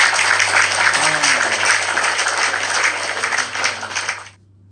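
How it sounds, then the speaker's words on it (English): People clap together to cheer a correct answer, a steady dense spatter of applause lasting several seconds with a faint voice underneath before it cuts off. "We can clap also, I think."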